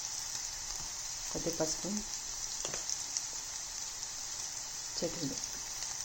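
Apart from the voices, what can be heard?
ginger and garlic frying in oil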